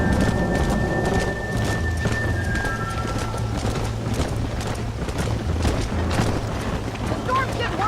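A rainy thunderstorm in Red Dead Redemption: steady heavy rain with rolling thunder, horse hooves clip-clopping, and voices talking over the storm.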